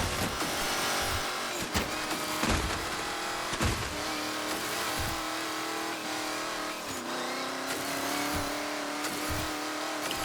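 A remote-control car races in The Crew Motorfest video game, its engine buzzing continuously and loudly with rising and falling revs and occasional bumps, without speech.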